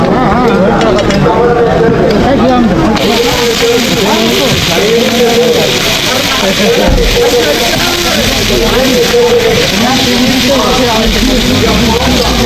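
Pork being fried and stirred over browned onions in a large pan at an Adivasi market in Chandwa, with a steady, loud sizzle and scraping stirring throughout, plus market bustle and voices around it.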